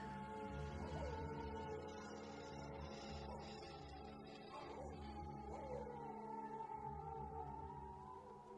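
Wolves howling outside on a freezing cold night, long wavering cries layered with a steady tonal drone, fairly loud and continuous with no talk.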